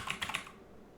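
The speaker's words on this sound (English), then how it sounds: "in our Quick Find, we're going to type in App Manager" A few quick keystrokes on a computer keyboard, three or four soft clicks in fast succession, then quiet.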